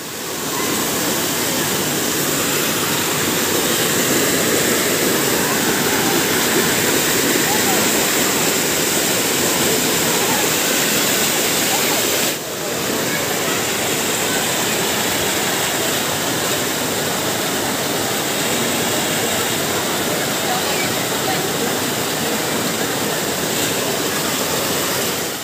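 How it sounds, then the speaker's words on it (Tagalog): Mountain spring water at the Badiang Spring Resort pours continuously, a loud broad rushing roar like a small waterfall, steady throughout with no voices. "Yan po yung galing sa bundok na tubig,"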